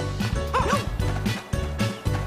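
Two small dogs bark in Super Mario 3D World, giving repeated short yappy barks over bouncy, swinging game music with a steady bass beat.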